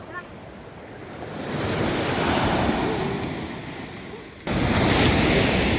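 Ocean surf rolls and washes onto a shore, a broad steady roar that swells and settles, mixed with gusts of wind buffeting the microphone.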